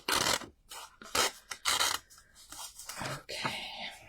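Close, quiet scissor snips and rasping rubs as the end of crochet yarn is trimmed, arriving as several short irregular bursts with small pauses between them.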